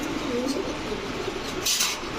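Mili racer pigeons, male birds of a club member's flock, cooing in short low murmurs against a steady background hum, with a faint voice nearby.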